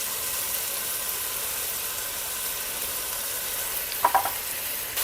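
Meat and pork fry in a pan for Sicilian meat buns: an even, hissing sizzle throughout, with a quick cluster of utensil clicks from stirring near the end.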